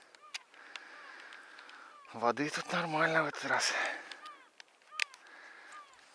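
Wild geese honk repeatedly in the distance, circling and landing, while someone speaks briefly over them, calls continuing faintly before and after his voice.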